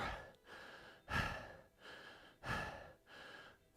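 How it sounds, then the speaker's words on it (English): Heavy, close breathing during an at-home live exercise session, slow audible inhales and exhales in a steady rhythm of about one breath every second and a half, fairly quiet and with no talking. "Forgive the creepy breathing."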